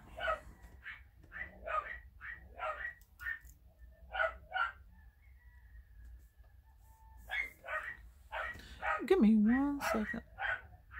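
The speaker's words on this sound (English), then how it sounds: "I know y'all get tired of hearing dogs barking." Dogs bark in repeated bursts nearby while someone talks over and between the barks.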